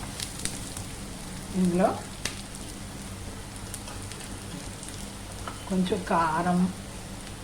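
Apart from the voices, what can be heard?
onions frying in a pan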